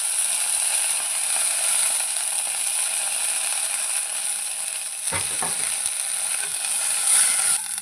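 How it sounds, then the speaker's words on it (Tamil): Mudakathan greens sautéing in a hot pan, giving a steady loud sizzle throughout, with a few scraping stirs of a spatula late on and no talking. "இப்போ இது கூடவே நம்ம முடக்கத்தான் கீரையும் சேர்த்து வதக்கிக்க போகிறோம்."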